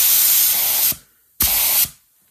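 A cheap Harbor Freight paint spray gun fires two loud, close bursts of hissing spray, each about a second long with a short silent gap between them.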